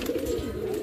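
Close, soft cooing of pigeons, including Saharanpuri pigeons and chicks, a low continuous throaty murmur with no talking.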